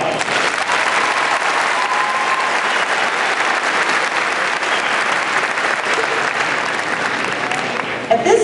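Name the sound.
applause at a graduation ceremony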